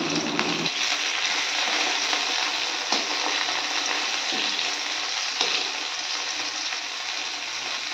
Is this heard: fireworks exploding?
no